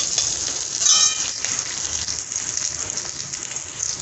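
Green chillies fry in hot oil in a kadhai for upma, giving a continuous soft sizzle and crackle with a brief sharper spatter near the start.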